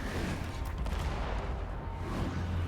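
Cannon fire during a Total War: Warhammer battle between Chaos forces, a dense rumbling barrage of low booms and explosions running continuously through the whole stretch with no clear gaps.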